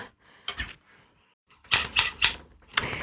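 Crisp metallic snips of Japanese scissors, a few quick cuts close up, pausing briefly before a faster cluster of sharp clicks.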